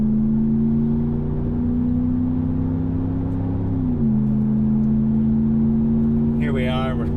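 A Ram 1500 pickup with an aftermarket exhaust pulls onto a highway and accelerates, its low, steady exhaust drone rising and dipping once as it shifts gear. The note stays loud and continuous, heard from inside the cab.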